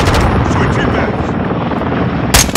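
In the Call of Duty Modern Warfare 2 multiplayer game, a UAV recon flyover roars loudly and continuously overhead, a broad rumbling engine wash that ends in a brief sharp burst, with no talk over it.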